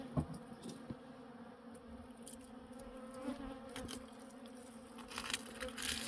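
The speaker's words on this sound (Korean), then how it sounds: "벌이 벌통이 하나니까 아주 꽉 들어갔습니다" Honeybees buzzing around a packed native bee hive set high in a remote spot, a faint continuous insect hum with scattered nearby buzzes and light rustles, no talking.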